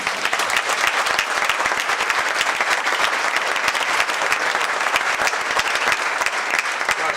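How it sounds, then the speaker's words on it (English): An audience at the Governor's Conference on Tourism in Canaan Valley gives loud, dense applause that holds steady and close for the whole stretch, with no voices over it. "Now you can clap really bad,"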